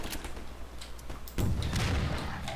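Gunfire from a Half-Life 2 gameplay scene, with scattered shots early on, then a heavier burst of booming fire in the second half, loud and close.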